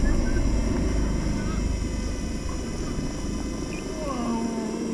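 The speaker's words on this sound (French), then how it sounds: "si je veux aller en avant, j'appuie sur les gaz" A DJI FPV drone's motors throttle up into a steady, buzzing whine with a droning hum beneath, loud and near, while someone speaks over it.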